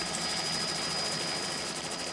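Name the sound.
helicopter flying in position over wildlife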